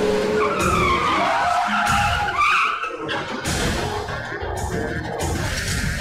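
Car tires skid and squeal under hard braking in a video game, a loud sustained screech with engine noise throughout, followed by further tire and motor sounds.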